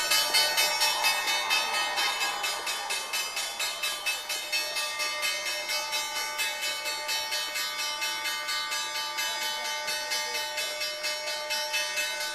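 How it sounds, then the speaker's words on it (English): The NYSE closing bell ringing in a fast, continuous metallic clang, evenly repeated strikes with sustained ringing overtones throughout, no talk. "time for our favorite tradition, the ringing of the closing bell."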